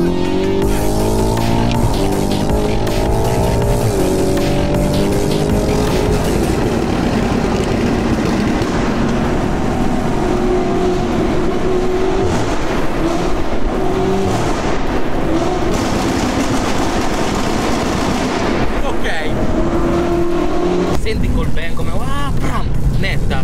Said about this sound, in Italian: Senti quando chiudo il band della valvola originale com'è la cambiata.